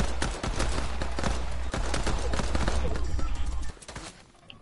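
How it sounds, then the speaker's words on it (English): Rapid gunfire in a shooter game, dense bursts of overlapping shots crackling continuously for several seconds before fading out near the end. "They're shooting me."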